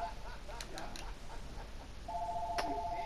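Telephone ringing inside a Fortnite match, a steady electronic ring tone that starts partway through and continues, heard over faint game sounds and brief clicks.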